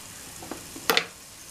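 Whole spices such as cinnamon dropped into hot oil for a fish curry: a steady low frying hiss, broken by a short sizzle and then a louder crackling burst, close up and without speech.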